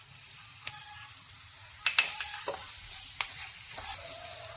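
Drumstick and snake gourd pieces fry in a pan, giving a soft steady sizzle with a few scattered scrapes and clinks as they are stirred, quiet and close.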